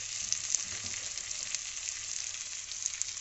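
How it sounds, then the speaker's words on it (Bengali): Spice masala paste with green chilli paste and Kashmiri chilli powder frying in hot oil for a Bengali omelette curry, a steady close sizzle and crackle with faint stirring, no voices. "এই সব কিছু দিয়ে আমার মশলাটাকে ভালো করে কষিয়ে নিতে হবে আবার 2 মিনিটের জন্য।"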